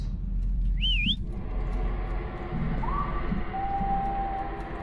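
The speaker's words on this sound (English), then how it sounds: "There's someone whistling back." A distant whistle answering in the horror video game Lazaret: a short wavering whistled phrase early, then a rising tone and a long held whistle over a low rumbling ambient background.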